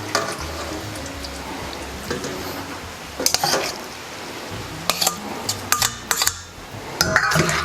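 Cooked spaghetti gets mixed into pasta sauce in a pan for Filipino sweet spaghetti: a low sizzle underneath, with bursts of wet scraping and utensil clatter coming in irregular clusters, growing busier toward the end.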